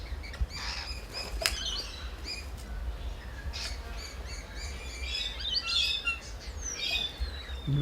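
Crimson Rosellas and a magpie at a bird feeder in Loch Sport give repeated bright chirps, whistles and squawks over a steady low background rumble, fairly near and continuous with no talking.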